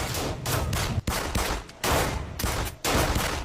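Gunfire in an action film shootout, with dense rapid bursts of loud shots and automatic fire in continuous volleys, broken by a few brief pauses, filling the scene without talk.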